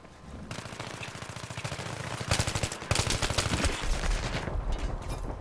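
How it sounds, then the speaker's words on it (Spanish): Rapid automatic gunfire from the video game Battlefield 3 crackles in dense, fast bursts that grow louder and heavier midway, sustained volleys with brief breaks and no talking over them. "Ya me están disparando, me cago en tal."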